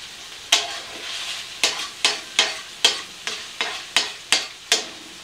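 Konjac angel hair pasta cooks in a pan, giving about ten crisp scraping stir strokes at a steady rhythm over a soft continuous sizzle, close and clear with no talking.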